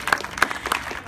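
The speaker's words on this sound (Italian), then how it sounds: "applauso" Brief applause from an audience at an Italian cultural talk or book presentation, a few scattered claps rising and fading over about a second.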